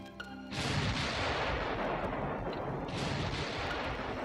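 Heavy naval gunfire from warship batteries in the Ultimate Admiral Dreadnoughts game, a sustained deep rumbling roar of big-gun salvos that swells in and stays loud, with no voices.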